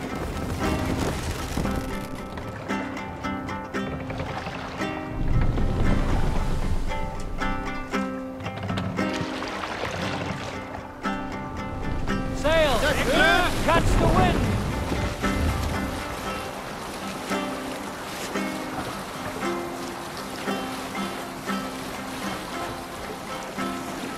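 Wind and rushing water around a sailing longship in Assassin's Creed Valhalla, a steady full-bodied wash of waves and air with a swell of louder surge midway, continuous and close, no talk.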